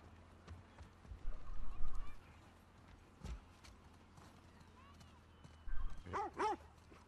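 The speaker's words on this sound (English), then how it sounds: "Is that a dog?" A dog barks a few times in The Last of Us Part 2 game, the yelps coming in short bursts near the end over low background rumble, with a brief vocal sound earlier.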